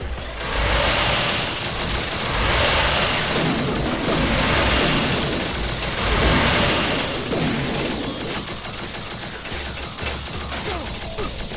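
Enemies in the game Shadowgrounds fire their guns in sustained, loud volleys, with dense overlapping shots and booms rolling on without pause.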